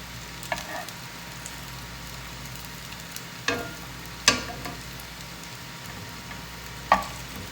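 Gnocchi browning in a pan for a Parmigiano Reggiano cream sauce dish, a steady soft sizzle broken by a few sharp crackles and pops spaced a few seconds apart, close and moderately loud, with no voices.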